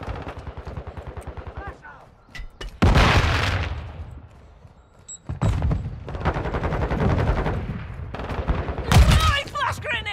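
In Modern Warfare 2, heavy automatic gunfire rattles in bursts while loud blasts boom out, a grenade among them, amid shouted voices during combat.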